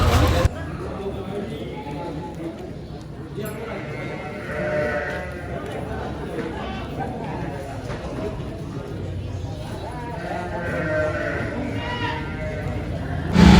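Garut sheep bleat repeatedly at an outdoor livestock market in Tanjungsari, Sumedang, under steady talk from a man describing the animals, with crowd noise throughout.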